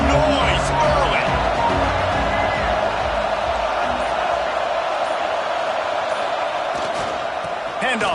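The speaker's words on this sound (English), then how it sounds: "This crowd bringing the energy and noise early." Football stadium crowd at a college game against Oklahoma, a loud steady roar of many voices filling the whole stretch with a few whoops and cheers rising out of it, while an announcer talks over the top.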